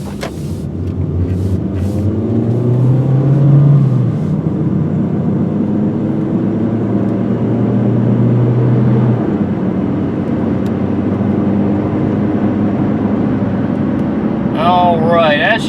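A 2005 Kia Spectra EX pulls onto the road and accelerates up to about 50 mph, its engine and road noise forming a steady, loud rumble with rising gear tones throughout, and a brief chirp near the end.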